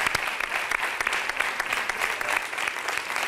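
Studio audience applause on a Valencian morning TV show, a dense steady wash of clapping that holds at a fairly loud level for the whole stretch with no talk over it.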